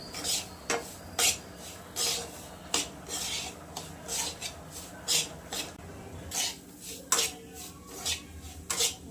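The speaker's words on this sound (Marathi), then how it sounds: "मीडियम गॅसवरच भाजून घ्या मस्त लाल" Grated coconut roasting in a pan over medium gas is pushed around with a spatula, making a regular series of close, rasping scrapes against the metal over a low sizzle.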